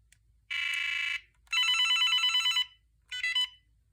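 An AT&T 9410 900 MHz digital spread spectrum cordless phone rings with a soft electronic ringtone in three close, clear bursts: a steady tone, a longer warbling trill, then a short final chirp.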